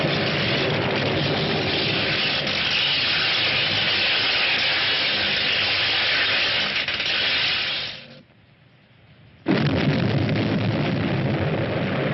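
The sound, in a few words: strong explosion sound effect in a sci-fi film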